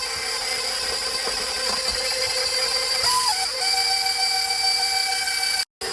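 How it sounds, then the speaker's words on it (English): An electric stand mixer whisks tres leches cake batter as flour is added, giving a continuous high whirring hum that shifts pitch partway through as the speed changes, with no voices. "as it gets a thicker consistency, I'm going to speed up the whisk slowly and surely"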